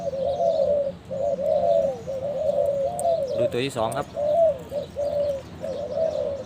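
Repeated soft zebra dove coos in a steady rhythm, fairly close, outdoors in the sun, while someone briefly speaks over them midway.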